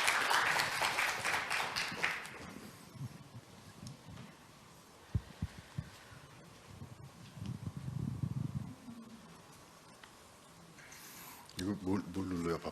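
A conference audience at a Korean ICT industry event claps loudly for about two seconds to welcome a speaker, then the hall goes quiet with low hum, handling thumps and a voice speaking.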